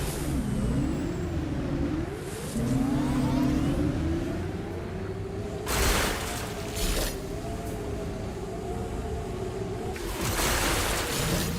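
A motorcycle engine revs in Metroid Prime 4: Beyond, rising and falling in pitch over a continuous mechanical hum, with bursts of loud noise cutting in at intervals.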